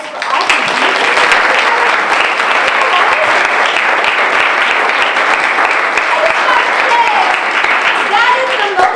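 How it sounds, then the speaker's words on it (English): A panel audience applauds youth who researched marijuana arrests and tickets in Chicago, loud dense clapping sustained evenly throughout, close and full. "can we give a round of applause for all the youth?"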